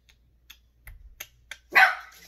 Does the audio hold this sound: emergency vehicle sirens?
no